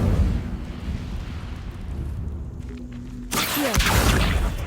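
Hogwarts Legacy's Incendio fire spell erupts midway, a sudden bright whooshing burst of flame that roars loudly over a low rumbling ambience and then fades slightly, with no talking.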